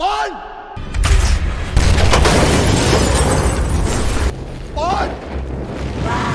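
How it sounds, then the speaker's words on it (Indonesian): A loud, sustained grenade explosion roars in with a blast of noise that rumbles on for several seconds, with voices crying out before and after. "sebuah granat tiba-tiba meledak di dekat mereka"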